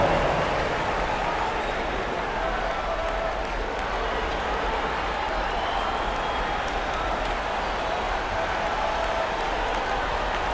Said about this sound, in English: Give your Lakers youth and team a big round of applause.